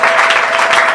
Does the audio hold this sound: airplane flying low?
no